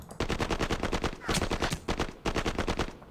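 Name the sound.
gunfire from units in a wargame video game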